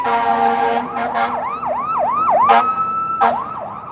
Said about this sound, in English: I hear a fire truck.